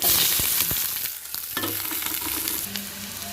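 Onion and dried red chili fry in a pan with a loud, continuous crackling sizzle and a few stirring taps, up close and without any voices.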